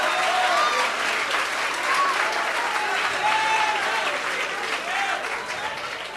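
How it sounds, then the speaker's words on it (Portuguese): Steady, dense applause from a church congregation, sustained throughout at an even, fairly loud level. "Deu uma salva de palmas para Jesus."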